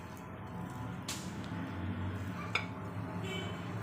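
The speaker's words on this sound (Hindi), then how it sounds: "अब इसे अच्छे से मैं मिक्स कर लूँगी" Mashed potato and cornflour mixed in a bowl, making quiet scraping with two sharp clinks of a utensil against the bowl, over a soft low background hum.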